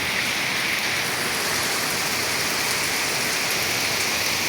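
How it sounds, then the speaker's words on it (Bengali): Steady, even rainfall patters on surfaces, a dense continuous hiss with no pauses. "খুব সুন্দর বৃষ্টি হচ্ছে"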